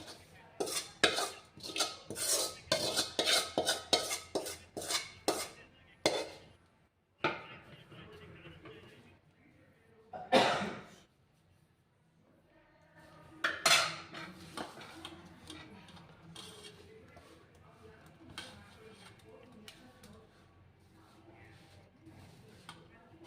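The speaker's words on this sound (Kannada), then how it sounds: "ಈ ಒಗ್ಗರಣೆ ಇದಕ್ಕೆ ಬೆರೆಸೋಣ" Tempering is worked by hand into flour dough for parotta in a bowl, with a quick run of clattering, scraping knocks followed by sparser taps and soft mixing sounds, fairly close and moderately loud.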